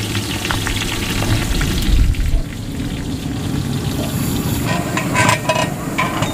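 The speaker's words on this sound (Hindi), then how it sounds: "ये डेग है, तो इसमें सबसे पहले घी डाला गया है और उसके बाद प्याज डाल दिया गया।" Onions frying in ghee in a large deg cooking pot for a village-style walima feast, a dense loud crackling sizzle like heavy rain, with low rumbling and occasional scraping bursts.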